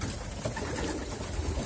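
Pigeons coo in soft, repeated calls over a steady, fairly quiet background, with no voices.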